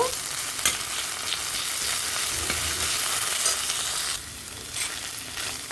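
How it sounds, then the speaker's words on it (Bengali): Cumin seeds and green chilli paste fry in hot oil, a steady close sizzle with soft stirring scrapes throughout, easing slightly quieter toward the end, with no talking. "তেলের সঙ্গে ভালো করে কষে নেব বা একটু ভাজা ভাজা করে নেব"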